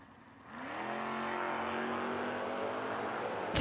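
A Mustang drag car at a footbrake drag race revs up hard and holds a loud, steady engine roar nearby for several seconds after a short quiet start.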